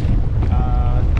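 Strong southeast wind at sea buffets a small boat, a dense low roar of gusts close on the microphone with a faint tonal whistle, steady and loud throughout.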